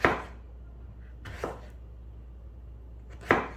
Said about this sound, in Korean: 원하는 모양대로 슬라이스를 해주세요. 저는 추석을 맞이해서 반달 모양으로 얇게 썰어 볼게요.